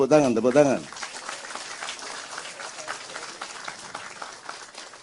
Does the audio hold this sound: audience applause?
yes